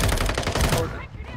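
A rapid volley of gunfire in Warzone Mobile crackles dense and loud for just under a second, then fades out quickly.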